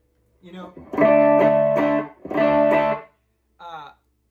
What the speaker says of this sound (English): I've been playing with I think it's a dotted eighth delay maybe, and a little bit of reverb